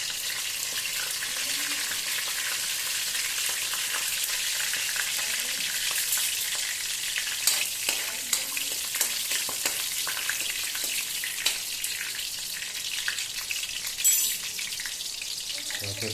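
Dried red chillies and panch phoron spices frying in hot oil for a rohu fish curry: a dense, steady sizzle throughout, close, with a few small stirring clicks and splutters in the second half.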